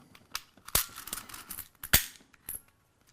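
Sharp mechanical clicks and a couple of louder snapping clacks as the charging handle of a Well M4A1 (D94) airsoft rifle is pulled back, close and fairly quiet.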